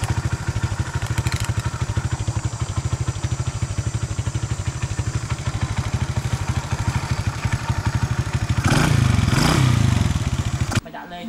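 A motorbike engine runs steadily with a throbbing low rumble in Cambodia, then revs up louder near the end before cutting off as it rides off.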